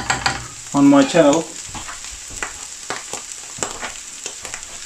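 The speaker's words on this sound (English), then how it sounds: "Now I'm going to add the tomato puree." Tomato puree poured into a sizzling pan of chana masala, giving a brief loud hiss and splutter followed by softer frying crackles and stirring knocks, with a voice talking briefly over the start.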